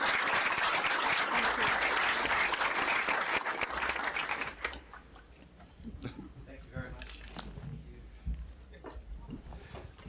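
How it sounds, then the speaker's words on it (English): A live audience at a lunar-construction summit applauds a panel with dense, loud clapping for about four and a half seconds, then the applause cuts off and a host speaks over a quiet room. "let's give these guys a round of applause again"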